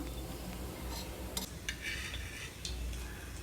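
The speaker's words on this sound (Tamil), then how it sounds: "இப்போது ஒரு பக்கம் வெந்ததுக்கப்புறமா திருப்பி போட்டு இன்னொரு பக்கத்தையும் வேக வச்சுக்கலாம்." Raw banana slices are flipped in a frying pan, giving a few sharp scraping clicks of a utensil against the pan over a soft background sizzle, with no talk.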